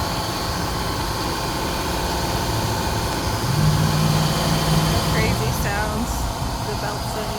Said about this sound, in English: So here we have the engine.